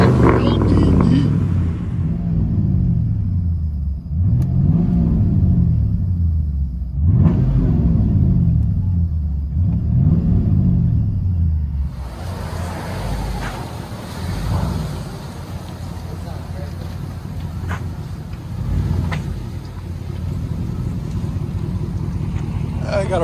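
A deep, rumbling V8 engine idles loud and close, with lopey pulsing revs early on, then settles into a rough steady burble under background noise.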